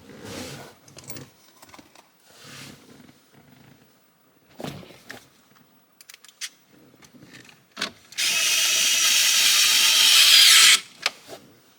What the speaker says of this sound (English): You notice there I kind of just let the cordless screwdriver spin in my hands